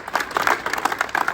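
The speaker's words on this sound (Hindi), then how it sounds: "आठों के लिए जोरदार ताली।" Classroom applause for students scoring above 35 on an Army Agniveer GD practice test, a short burst of group clapping rising and falling in waves, moderately loud and close.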